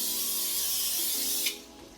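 Olive oil sprayed onto sweet potato fries headed for an air fryer, a steady close hissing spray lasting about a second and a half before cutting off sharply, leaving quiet room tone.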